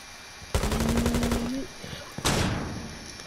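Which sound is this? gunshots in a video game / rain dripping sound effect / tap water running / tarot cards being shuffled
gunshots in a video game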